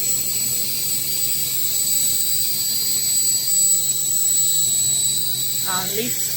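A shisha tobacco packing line wrapping machine running in a factory for 50 g packs, a steady loud mechanical hum with high whining tones and a brief squeal near the end.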